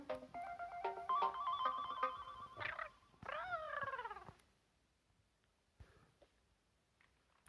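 A telephone in a video game trills with a rapid electronic ring tone in two bursts, the second a warbling falling chirp, then cuts off into near silence with a few faint clicks.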